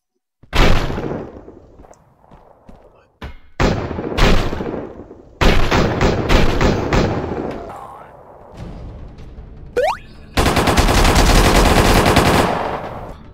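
Guns in the VR game Battle Talent fire in loud, close bursts, with single heavy shots and rapid automatic strings separated by short gaps, ending in a sustained volley.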